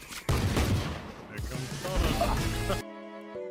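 A satchel charge explodes in Valorant, giving a loud burst followed by crackling gunfire-like blasts. These continue for a couple of seconds before cutting to a quiet game tone.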